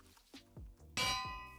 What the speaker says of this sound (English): We got a little bell. We can put the bell down.